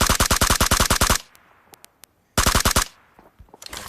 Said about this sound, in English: I'm shooting slightly to the right of wherever I am